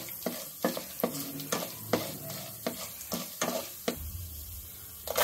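Mustard seeds and chillies spluttering in hot oil for cabbage rice, with a steady soft sizzle broken by repeated sharp pops and crackles, close and fairly quiet, with no talk.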